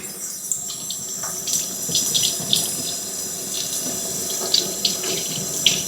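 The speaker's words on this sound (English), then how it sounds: "Running it underwater has definitely helped to soften the skin." Tap water runs steadily over a seed held under the stream to soften its outer shell, a constant splashing hiss with small irregular spatters and no voices.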